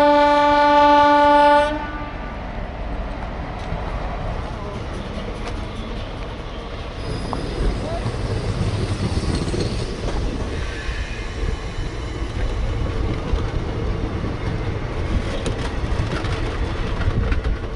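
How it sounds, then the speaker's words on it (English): A train horn blares briefly, then a train rumbles into a station steadily with rolling wheel noise and occasional squeals, growing louder and close by. "waiting for the train to come. It'll come any moment."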